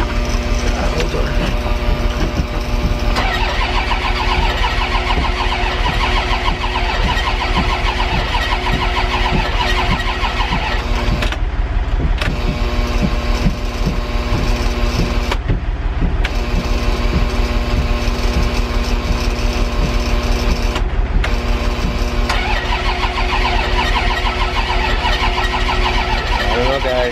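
A 1996 Dodge Ram school bus engine cranking repeatedly during a fuel pump test, long churning bursts broken by brief pauses, loud and close, with a voice talking at times.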